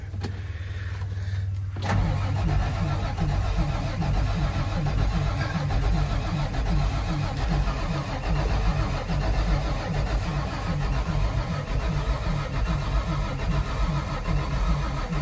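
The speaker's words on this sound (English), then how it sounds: "Let's see if this thing will fire off." A swapped car engine that had sat for two years cranks and catches, then settles into a loud, rough, continuous idle that runs steadily to the end.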